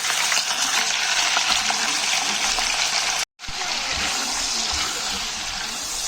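Chicken gizzards sizzle loudly in hot ghee, a dense, steady crackling hiss broken by a brief cut, then continuing just as strongly.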